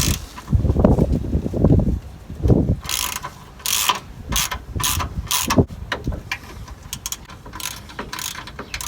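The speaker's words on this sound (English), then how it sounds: "grab a 12mm socket with the ratchet and take off this bolt right here" A 12mm socket ratchet clicks in quick bursts while loosening a bolt during starter removal on a 2005 Toyota Tacoma standard cab, close and clear, with some clanking and handling noise at the start.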